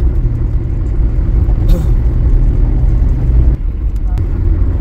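Cars and other vehicles run in both directions on a congested highway between Mangaon and Indapur near a Konkan Railway bridge, a continuous close rumble of engines and tyres with a brief passing swell partway through.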